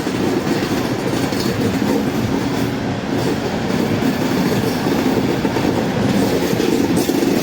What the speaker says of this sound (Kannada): ರೈಲು ತನ್ನ ವೇಗವನ್ನು ಪಡೆದುಕೊಂಡಿದೆ